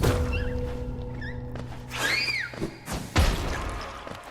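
Muffled explosions thud through a wall in the Hollow Knight video game, two or three dull booming impacts arriving after a steady game tone and a brief sweeping chime.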